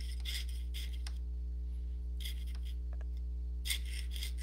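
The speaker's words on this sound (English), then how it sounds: "So I'm actually sawing." A jeweler's saw cuts and pierces metal in short rasping bursts, several separate strokes with quiet gaps between them, close and fairly faint over a steady low electrical hum.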